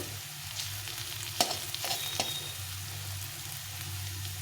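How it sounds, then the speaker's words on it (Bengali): Onion frying in a pan with a spoonful of sugar caramelising in the middle, a quiet continuous sizzle over a low hum, broken by a few sharp taps of a utensil. "পেঁয়াজটা ভাজা হচ্ছে এখন আমি এখানে একটু মাঝখানে একটু ফাঁকা করে এখানে আমি দিয়ে দেবো এক চামচ মতো চিনি"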